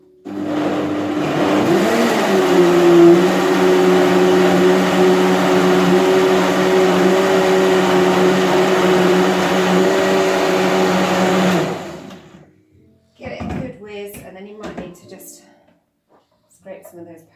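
A countertop blender whirs loudly and steadily for about eleven seconds while mixing a CBD superfood smoothie with nut milk and powders, then cuts off, and close talk follows.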